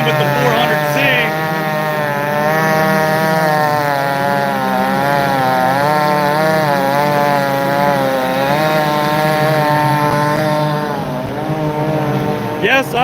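A Stihl MS 400 C chainsaw runs steadily and loud, cutting firewood throughout, its engine pitch wavering slightly as it bogs and revs in the wood.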